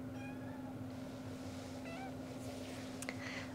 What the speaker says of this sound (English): You might hear her in the background meowing from time to time